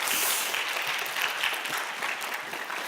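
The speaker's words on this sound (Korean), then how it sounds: "우리 다시 한번 조영길 장로님에게 감사의 박수 드리겠습니다." Steady applause from a church audience thanking an elder after a special lecture, dense clapping that fills the room evenly for a few seconds before beginning to thin.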